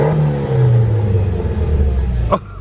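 A Mitsubishi Evo 10 with a straight pipe and open dump downpipe revs hard, a loud raspy engine note dropping in pitch as it eases off, ending with a sharp pop.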